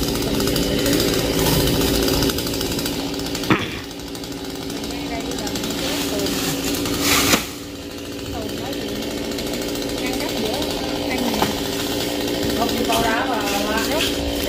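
A chainsaw cutting through the fronds and trunk of a king palm tree, running loudly and continuously with brief surges as it bites in, while someone talks over the engine.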